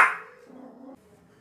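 A small dog lets out one sharp bark right after a doorbell rings indoors, close and fairly loud, fading quickly into quiet.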